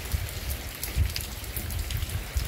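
Steady rain falls on a rural area of Santana do Ipanema, Brazil, where bean and corn fields needed water; a soft, continuous wash of drops with gentle swells, no voices.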